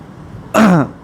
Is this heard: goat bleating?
no